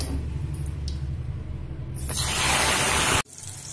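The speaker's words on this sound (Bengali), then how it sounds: "আর বেগুন তুলে নিয়ে এই একই তেলের মধ্যে সিমটাও মিডিয়াম ফ্লেম করে ভেজে নেব" Flat beans (sheem) frying in hot oil over a medium flame, a steady sizzle that swells louder and brighter midway, then cuts off abruptly near the end.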